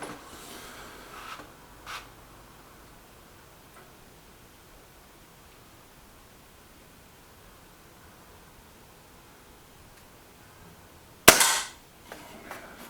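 A Reximex Myth air rifle fires a single sharp shot at a target, a brief crack standing out clearly near the end after long quiet background hiss, with two faint ticks earlier.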